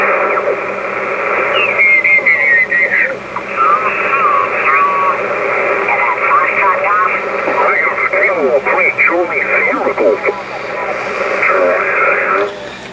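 Amateur radio station from Ontario, Canada received on a Kenwood TS-50 HF transceiver during field day: loud, continuous single-sideband receiver audio with warbling distorted voices, static and interference tones.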